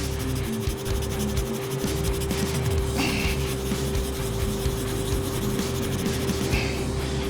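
Steady, close rubbing and rasping as weathering paint is worked off a T-54 tank model down to bare metal, continuous and even over a low background hum, without speech.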